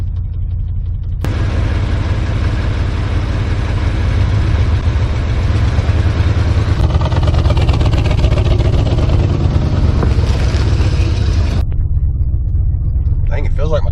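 An old truck engine idles and runs loudly in reverse gear with a steady low rumble, a brief surge partway through, and people talking over it.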